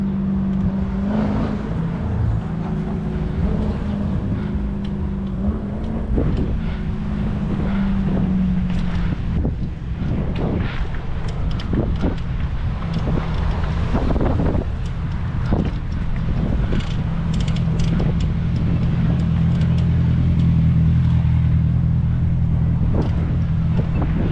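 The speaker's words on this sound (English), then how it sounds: "Okay, little Audi RS7." An Audi RS7 drives past at a Sunday car meet, heard through heavy wind buffeting with a low engine drone that rises and falls as the car revs and coasts, with no one speaking.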